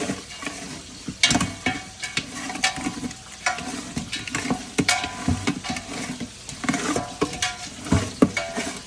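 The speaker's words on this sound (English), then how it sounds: "and then just gonna mix that up in there" Food being stirred in a pan, a busy run of close scraping and clattering strokes over a soft sizzle, steady and uneven in rhythm, with no talk.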